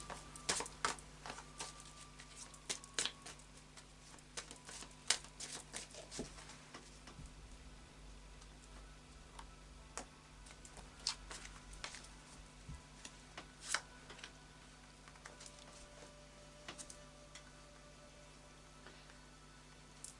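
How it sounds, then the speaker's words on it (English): Oracle of Visions cards get a quiet hand shuffle, scattered soft taps and riffles over a steady low electrical hum, fainter and sparser than a brisk shuffle. "And a final shuffle of the Oracle of Visions."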